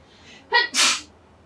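A single close, loud human sneeze, a sharp intake followed by an explosive burst, heard during a tabletop board game unboxing with no talking around it.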